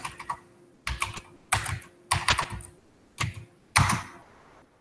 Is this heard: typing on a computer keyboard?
yes